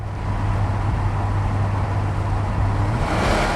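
A 1993 Ford Ranger with a 4.0-liter engine and automatic gearbox pulls under heavier throttle, a steady cabin drone with a low engine tone that climbs in pitch near the end.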